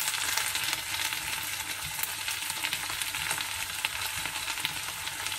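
Potatoes frying in a pan as they are stirred, a steady broadband sizzle with scattered scraping and clinking from the stirring, close and continuous with no talking.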